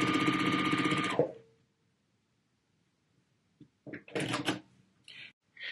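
Sewing machine stitching quilt block pieces sewn right sides together: a steady, close mechanical run that stops after about a second, then silence before scattered clicks and handling noises of fabric and machine parts.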